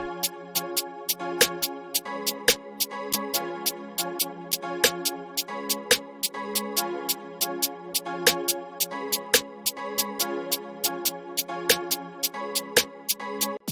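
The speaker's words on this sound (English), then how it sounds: "With the hi-hat, snare together with the melodies sound like this." A drill-style beat with sharp, rapid hi-hat ticks and regular snare hits over a looping melodic line, steady and fairly loud, with no voices.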